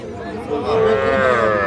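A young heifer calf at a cattle market lets out one loud, close, drawn-out moo over faint crowd chatter.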